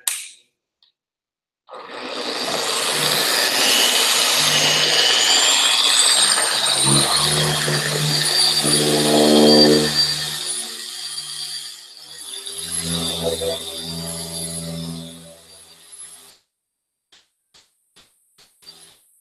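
A Chemical Guys Torx buffer whines loudly at high RPM, about 4,000, spinning up abruptly, holding a steady high-pitched drone with a deeper grinding hum midway, then winding down and stopping, followed by a few light taps.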